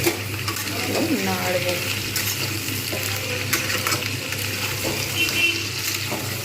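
Ginger-garlic paste frying in hot oil with tomato and green chilli, a steady sizzle with stirring scrapes, close and continuous, a faint voice under it.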